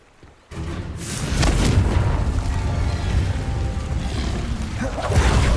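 A Confringo explosion spell in the video game Hogwarts Legacy hits with a loud boom after a brief quiet moment, followed by a heavy rumbling roar that holds for several seconds and swells again near the end.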